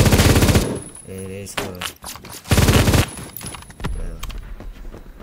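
Bursts of rapid LMG fire in the video game Phantom Forces, loud, sustained automatic volleys split by short gaps, with someone talking briefly between them.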